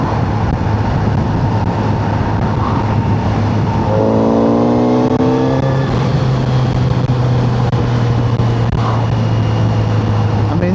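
A 2026 Kawasaki Z900RS fitted with a performance exhaust pulls hard in sixth gear, its engine drone rising steadily in pitch over loud, continuous wind rush, close and dominant with no voices.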